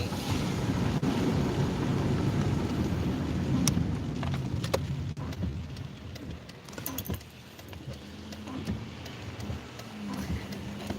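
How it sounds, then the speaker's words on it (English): Steady spring rain with rumbling thunder, a dense wash of rainfall and low rolls of thunder early on, followed by scattered sharp clicks and taps as the downpour thins toward the end. "Oh no, the rain's okay. 3 days of rain."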